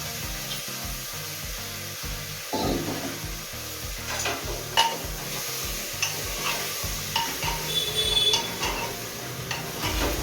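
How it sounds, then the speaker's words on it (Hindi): Diced potatoes frying in ghee with cumin and turmeric, a steady close sizzle broken by repeated scraping and stirring of the pan, with occasional utensil knocks and no talk. "जो आलू मैंने काट कर रखे थे वे डाल लूँगी, और खूब अच्छे से इन्हें पहले भून लूँगी इसके अंदर डालकर।"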